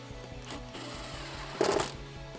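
An 8mm socket wrench tightens the bolt on an intake tube clamp of a 2005-2009 Mustang GT cold air intake, a quick run of close ratchet clicks, with a brief louder metallic burst near the end.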